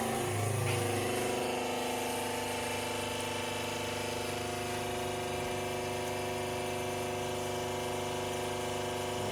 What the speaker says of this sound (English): We'll cut the pump on. Everything's pressurized, and we'll shoot it over here in the shop.